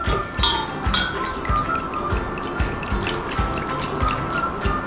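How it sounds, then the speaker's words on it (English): Cold water poured into a Thermomix bowl for lemonade, with clinks and splashy drips repeating at an uneven rhythm, close and fairly loud, with no voice. "Now I'm just gonna add 800 grams of cold water."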